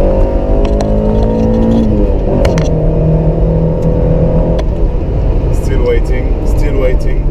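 Sustained hard revving from a Honda Civic ESI engine, a loud steady high-pitched whine held near the limiter while a voice talks over it, close by.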